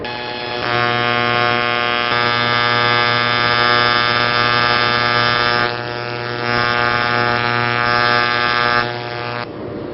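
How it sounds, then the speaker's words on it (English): A TIG welding arc runs on a corner joint, a steady electric hum with a fixed tonal buzz, close and continuous for most of ten seconds before cutting off near the end. "we're ready to weld that joint now"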